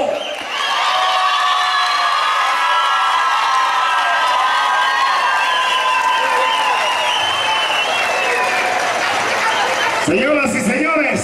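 A crowd at a bull riding tournament at a rodeo in Mexico erupts in loud applause, cheers and whistles that swell and sustain for several seconds, with shouts and a few voices over it.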